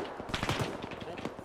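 Rapid gunfire in a military video game, a loud, busy volley of overlapping shots over about a second and a half.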